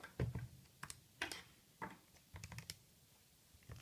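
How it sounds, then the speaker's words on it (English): Calculator keys tapped in short irregular clicks, a few quick presses then pauses, close and quiet with no talking. "when you type that into your calculator"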